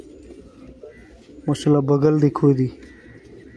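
A female pigeon coos softly in the background while someone talks loudly over her, his voice dominating the middle of the stretch.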